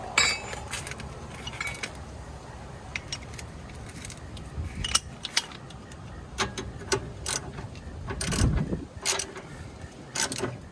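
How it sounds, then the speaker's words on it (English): A grease gun working on the tie rod of a Dodge 24-valve Cummins truck gives scattered metallic clicks, ratcheting ticks and clinks over a steady low rumble, close by, with no talk. "See if we can get a grease gun back here. Give this baby some grease."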